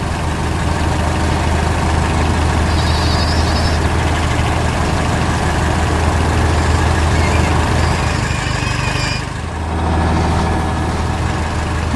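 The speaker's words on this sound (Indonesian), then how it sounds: "Mobil traktor sedang bekerja keras, mengangkat balai hai dengan cangkang baja" A heavy tractor engine rumbles continuously and loudly at close range, a steady low drone with a brief dip near the end.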